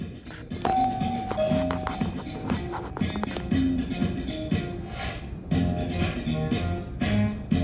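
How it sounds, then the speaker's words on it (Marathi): Doorbell chimes ring from a Qubo video door phone demo, several bright tones over a busy, cluttered background with taps and clicks. "तुमच्या घरी जेव्हा बेल वाजते तुमच्या मोबाईलवर त्याचा अलर्ट मेसेज येतो."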